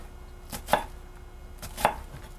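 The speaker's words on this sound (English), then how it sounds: "And then I go down through it to chop my onion," A kitchen knife chops down through an onion on a cutting board, giving two crisp, close knocks about a second apart with nothing else heard.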